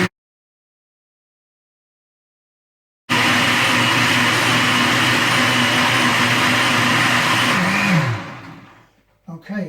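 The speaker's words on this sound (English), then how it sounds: "so that's 2 minutes in the blender." A blender whirs loudly and steadily for about five seconds while blending a homemade milk substitute, starting abruptly after three seconds of silence and winding down near the end, with no talking.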